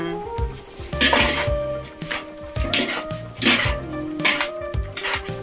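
Noodles (miki) for Filipino-style yakisoba are stirred in a large pan, with repeated metallic clanks and scrapes of a utensil against the pan in an uneven rhythm, fairly close and moderately loud.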